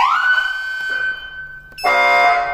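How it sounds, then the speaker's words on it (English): Federal Signal SSP3000A siren on a custom emergency-vehicle upfit, a loud tonal wail sweeping up and then holding steady before cutting to a different harsh, buzzy tone near the end. "So you press it, the siren turns on."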